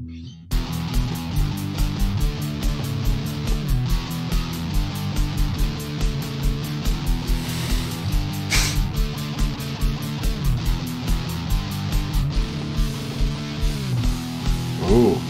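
Old home-recorded song built on a thrash drum kit with a weak, thin kick, full band mix with steady pounding drums and fills running throughout.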